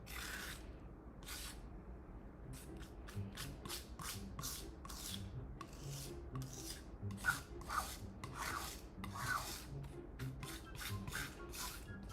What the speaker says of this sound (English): Scraping a little different than normal because I'm trying to make sure I get all of the dry bits so I can take this mask off.